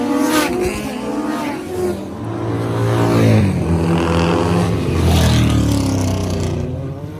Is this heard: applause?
no